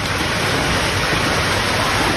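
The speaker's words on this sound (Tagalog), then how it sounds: "Ulan dito sa amin, guys." Rain pours steadily outdoors where a family is sharing a big mukbang meal of pork adobo, a dense, even hiss with no breaks, fairly loud and constant.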